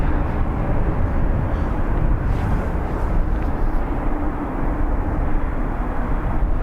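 Steady, loud jet engine rumble from a plane taxiing at Dublin Airport, a broad continuous roar held at an even level from start to end, with no voices.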